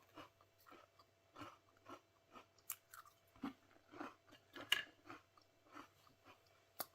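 Chocolate almond pizzelle cookie being chewed close up, a steady run of soft crunching bites with no talking.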